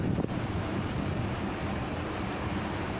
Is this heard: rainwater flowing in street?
yes